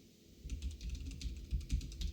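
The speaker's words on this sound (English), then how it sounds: "in the server name you have to type your domain for the front end" Someone types a domain name on a computer keyboard, a quick burst of close, soft key clicks in an uneven rhythm lasting about two seconds.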